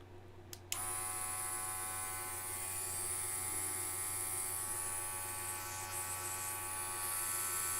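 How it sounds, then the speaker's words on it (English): Portable air compressor switched on and running, blowing air at low output: after a couple of faint clicks, a steady buzzing motor whine with a hissing airflow starts abruptly and continues evenly, close by. "Yeah, air's coming out of it, but it's not a lot."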